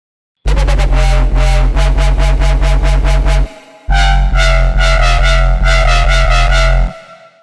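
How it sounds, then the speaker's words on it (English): A complex UK bassline synth bass, loud and punchy, playing a repeated rhythmic pattern in two phrases separated by a short break, with a dense buzzing tone and a brighter second half, no talking. "After all that, you should get a bass that sounds something like this."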